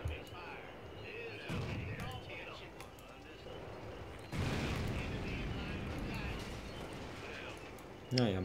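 Artillery fire in the video game Blitzkrieg 2 sounds as a few heavy booms and bursts, a big one midway and another near the end, over low game noise and a talking voice.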